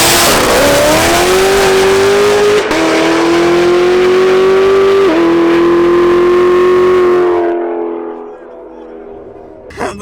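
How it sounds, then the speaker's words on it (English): A 650whp sleeper car at a street drag-racing event, its engine revving loud and close with a rising, sustained roar that holds for several seconds before cutting off, with a brief faint sound near the end. "do you want to go watch some drag racing?"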